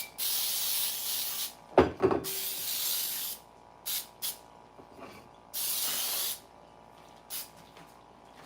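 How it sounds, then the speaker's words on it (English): Cooking spray hisses onto a bundt pan in several separate close bursts of varying length, with a couple of clunks from handling the pan in between. "you need to be very careful and spray the heck out of it"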